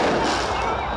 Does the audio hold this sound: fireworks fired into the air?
yes